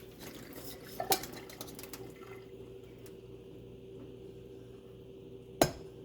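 Cooked vegetables being strained in a home kitchen, with two brief metallic clinks of pots and pans over a low, steady background hum.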